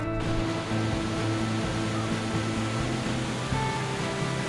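Rushing water roars steadily at the multi-level Ravana waterfall, a dense, constant wash of noise that stays loud and unbroken throughout with no voices.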